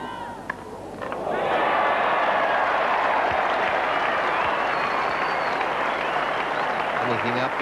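A cricket crowd at Headingley breaks into sustained applause for a dismissed batsman during the 1986 England v India Test, swelling after a quieter second and holding steady, broad and dense, with a voice briefly heard under it.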